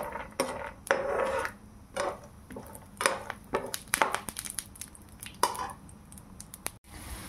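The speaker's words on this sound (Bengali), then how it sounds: "বাদামগুলো দিয়ে ভেজে নেব।" Peanuts frying in a pan: intermittent scraping, rattling and clinking of nuts and utensil against the metal, close and uneven in rhythm with short quiet gaps between bursts, no talk.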